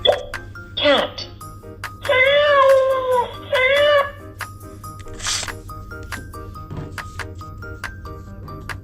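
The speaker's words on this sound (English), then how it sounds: "Cat." A cat gives a short sound and then two drawn-out meows in a row, close and fairly loud, with a brief noise afterward.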